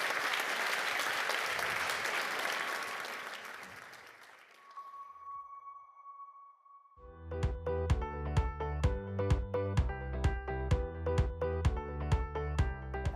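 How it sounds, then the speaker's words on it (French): An audience at a French engagement awards ceremony applauds loudly and steadily, the clapping fading out after a few seconds before a sustained tone and a rhythmic musical passage take over. "On peut les applaudir. Bravo, félicitations."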